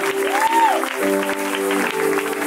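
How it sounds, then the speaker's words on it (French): An audience at a Christian worship concert claps in acclaim of Jesus, a steady wash of applause beneath a strong sustained voice that sings and glides over the crowd. "Tu as compris qu'on est en train d'acclamer Jésus?"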